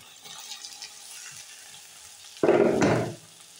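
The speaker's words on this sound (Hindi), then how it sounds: "देखिए दोस्तों, प्याज भून चुका है, इसको ज़्यादा हम नहीं भूनेंगे।" Onions fry in a pan for matar paneer with a faint, steady sizzle and light stirring taps, then a brief loud burst of hissing, splashy sound for about half a second before it settles back down.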